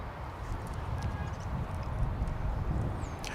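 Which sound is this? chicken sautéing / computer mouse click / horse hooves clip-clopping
horse hooves clip-clopping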